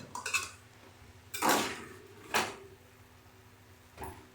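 Red amaranth vegetable dish mixed in a metal pan, a few sharp spoon clinks and scrapes separated by quiet pauses, close by.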